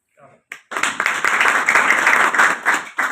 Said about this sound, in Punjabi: ਤੁਹਾਡੀ ਜ਼ੋਰਦਾਰ ਤਾੜੀਆਂ ਨਾਲ ਸਵਾਗਤ ਕਰਦੇ ਹਾਂ